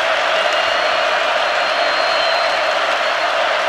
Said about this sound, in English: This Notre Dame crowd getting loud again.